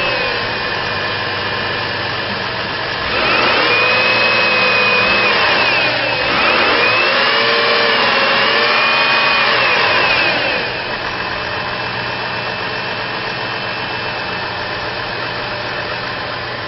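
A 2004 GMC Envoy XL with a 4.2 liter engine and automatic transmission runs steadily at close range, idling smoothly with a swell in revs in the middle before settling back to idle.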